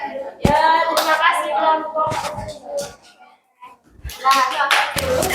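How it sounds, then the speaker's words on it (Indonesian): A grade 9 science class claps for a student group, giving a few short bursts of hand clapping mixed with children's voices talking nearby. "Ya, tepuk tangan buat kelompok 2."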